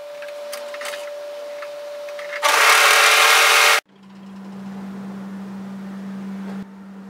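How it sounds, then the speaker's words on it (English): Overlocker stitching the short ends of fabric into a loop for a Rosa dress, a steady whirring run with a brief louder burst midway, then a lower droning hum continuing to the end, close and alone. "overlock the short ends so we have a loop."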